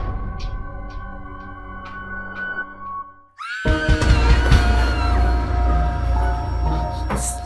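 A person's scream, long and loud, rising out of a quiet stretch of steady tones, harsh and sustained for several seconds with no talking over it.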